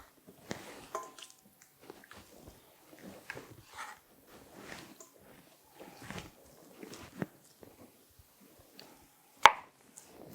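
Solid foaming bath butter is cut into pieces and tossed into a mixing bowl. Close, soft slicing and squishing sounds repeat irregularly, and a sharper knock near the end suggests a piece landing in the bowl.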